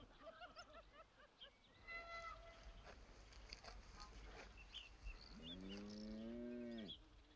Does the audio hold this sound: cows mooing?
yes